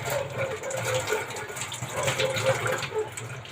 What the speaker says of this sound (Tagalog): Hugas lang ng kamay.